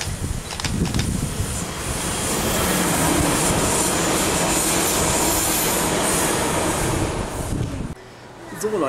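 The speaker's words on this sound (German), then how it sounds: "ICE 3 in Stuttgart." An ICE 3 high-speed train passes through Stuttgart in a loud, steady roar of rolling wheels and rushing air. It holds close and constant for about eight seconds, then drops away abruptly.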